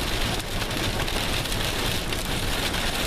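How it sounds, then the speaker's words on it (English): Heavy rain drums steadily and loudly on a vehicle's roof, a dense unbroken patter with no voices. "It's raining."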